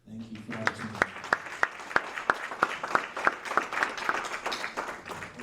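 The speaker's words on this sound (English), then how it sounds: "y'all give them a hand clap" An audience at a Christian business seminar applauds, a run of distinct, fairly regular claps over a scattered patter, following a brief stretch of voice at the start.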